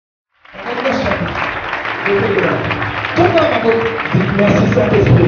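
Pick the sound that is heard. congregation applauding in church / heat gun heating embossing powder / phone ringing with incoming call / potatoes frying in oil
congregation applauding in church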